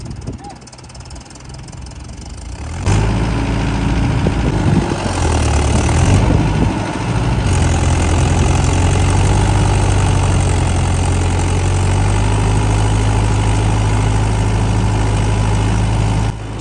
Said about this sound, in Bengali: আর কোবোটা খুব জোরে টানার চেষ্টা করছে, হাঁচকা টান দিচ্ছে, তবু উঠছে না।